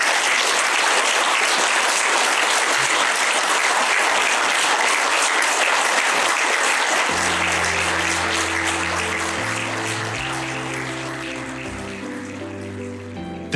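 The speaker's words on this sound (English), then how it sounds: "That applause went on for much longer than what I'm playing here" Sustained applause from a large audience closing a live speech at a LAL 2020 event, dense and steady, then fading gradually as music rises underneath toward the end.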